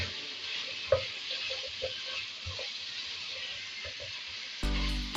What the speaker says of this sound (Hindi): इसको अच्छे तरीके से भून लिया आपने।